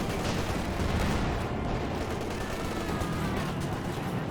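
Dense, rumbling battle noise from Company of Heroes 2 carries on without a break: overlapping gunshots and heavier cannon fire, including anti-tank fire against Panzer IV and Cromwell tanks, blend into one loud wash.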